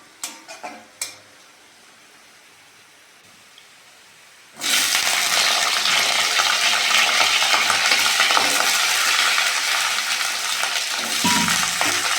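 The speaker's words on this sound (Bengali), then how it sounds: "পেঁয়াজটা ভালো করে ভেজে নিয়েছি, এইবার আলুটা দিয়ে দেবো।" Potatoes tipped into a pan of fried onions, a few clatters followed by a sudden loud burst of sizzling that stays strong and steady, with a clink near the end.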